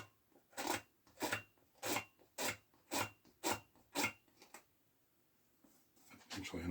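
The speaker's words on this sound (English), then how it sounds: "Actually, I don't know why I'm scraping that off." Paint being scraped off a Mandalorian painting in eight close, rhythmic rasping strokes, each about half a second long, followed by a quiet pause and then a few faster, softer scrapes.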